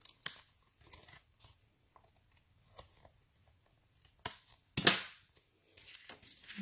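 Paper card is trimmed with scissors in a quiet craft room: a few sharp, isolated snips and crisp paper rustles spaced apart, close to the microphone.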